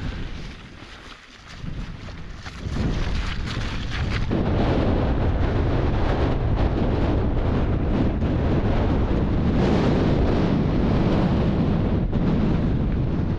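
Strong wind on the high, open moorland of Blakey Ridge buffets the microphone, building from a gusty start into a loud, continuous roar that stays close and unbroken, with no voices heard.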